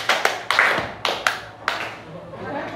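A classroom of pupils claps in a counted pattern led by their teacher, with several sharp group claps spaced in quick bursts, some loose and uneven, at moderate loudness with faint voices in the background.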